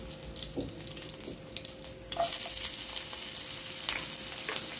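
Chopped onion goes into hot oil already holding curry leaves and green chillies for Karnataka-style zunka. The pan is quiet at first, then a sudden, louder sizzle swells and continues steadily, with no speech.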